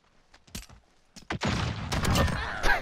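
Shotgun blasts in Modern Warfare: a few sharp separate shots, then a louder, denser burst of gunfire mixed with game noise.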